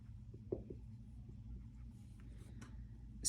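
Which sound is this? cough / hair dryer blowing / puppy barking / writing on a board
writing on a board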